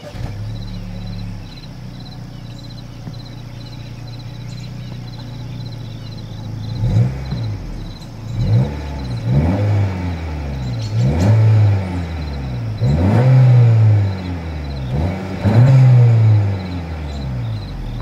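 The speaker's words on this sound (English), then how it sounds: "As always, here is that exhaust clip." Exhaust of a 2024 Honda Civic with a turbocharged engine, idling steadily at first, then revved repeatedly in rising and falling sweeps, close and fairly loud.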